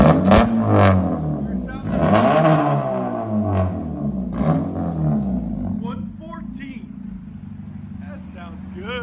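A 2009 Honda Civic with a straight-pipe exhaust and six-inch tip revs loudly up close in several rising and falling sweeps, then settles to idle as people talk over it.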